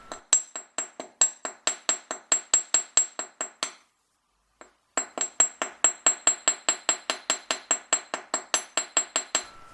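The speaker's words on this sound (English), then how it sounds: "I'm going to start off with my rawhide mallet over the whole clasp just to help to work harden it a little bit." A rawhide mallet and a chasing hammer strike a wire hook clasp on a hard block in an even run of sharp, ringing taps, pausing briefly midway before the regular metallic blows resume, close and clear.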